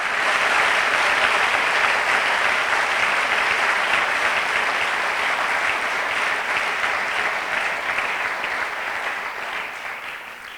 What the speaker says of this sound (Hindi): हम एक बार फिर ज़ोरदार तालियां खुदा के खादमों के लिए बजाएंगे।